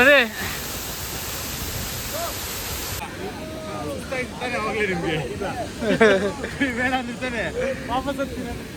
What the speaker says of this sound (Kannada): ಓಕೆ ನೋಡಿ, ಫಾಲ್ಸ್ ಹತ್ರ ಇದ್ದೀವಿ.